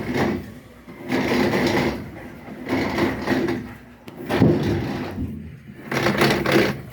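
A Haceb washing machine grinding as it washes, like stones being milled, with rough bursts of scraping noise that rise and fall in repeated cycles of about a second or two.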